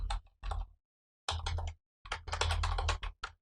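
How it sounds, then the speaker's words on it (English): Typing on a computer keyboard during accounting-software data entry, with close, crisp key clicks arriving in three quick bursts separated by short pauses. "I'm just going to type it in."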